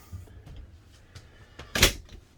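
A pull-out drawer in a 2021 Tiffin Wayfarer 25LW RV slides and knocks shut in one sharp, loud thump, after softer scattered clicks and rattles of handling.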